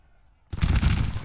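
Sudden burst of massed musket gunfire from a Civil War battle in the Grand Tactician strategy game, a dense crackling volley that erupts after a quiet moment and keeps rolling loudly.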